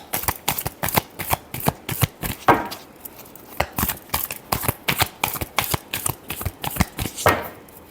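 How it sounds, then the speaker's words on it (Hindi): Tarot cards being shuffled, a quick series of sharp riffling snaps and flutters repeating rhythmically up close, with no voices. "last shuffle"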